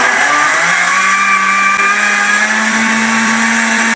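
Countertop blender grinds kimchi seasoning of fish sauce and apple, a loud, steady whir with a rising pitch as the thick mixture churns, with no talking.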